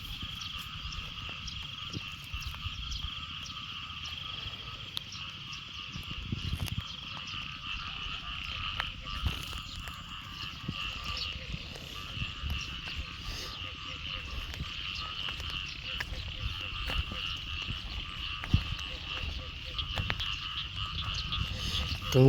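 Frogs croak in a dense, loud chorus after a night of rain over flooded rice paddies, the calls overlapping continuously and steadily for the whole stretch, with insects buzzing faintly beneath.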